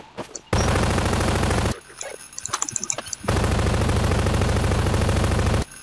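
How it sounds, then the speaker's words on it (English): A gun in the GMOD video game fires in two long, sustained automatic bursts that are loud and dense, separated by a short break filled with scattered smaller impacts. "What's with this gun being so weak?"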